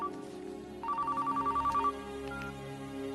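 A telephone rings with one short burst of rapid electronic trilling, about a second long, over a quiet indoor background.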